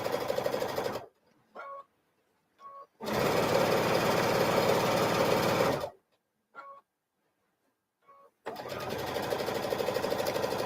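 A sewing machine stitches a seam at 2.5 mm stitch length in three loud, steady bursts of a few seconds each, separated by quiet pauses with faint clicks of handling between runs.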